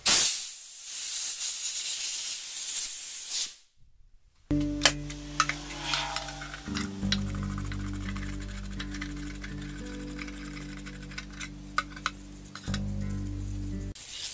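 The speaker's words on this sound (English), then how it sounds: "I don't have a lot of pressure in the air hose, just 60 or 70 pounds." A compressed air hose at 60 to 70 psi blows a loud, steady hiss for a few seconds while cleaning a lathe chuck, then cuts off; a low droning hum follows.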